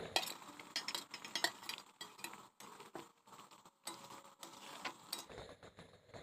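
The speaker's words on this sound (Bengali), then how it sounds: "এবার আমি দিয়ে দিচ্ছি ভেজে রাখা ডিম।" Fried eggs go into a simmering pot of Bengali egg and potato posto curry and are stirred in, with intermittent metal clinks and spoon scrapes against the pot and a quiet bubbling underneath.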